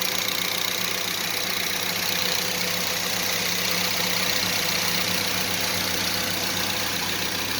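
An engine from a car with an A500 (42RH) transmission idles steadily with the lights on, a constant, even hum and faint knock that holds the same level throughout with no voices.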